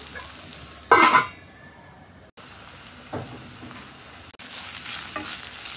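Onions frying in a pan with ginger paste and chili powder for egg pulusu curry, a steady close sizzle broken by a loud burst of stirring and scraping near the start and softer stirring later.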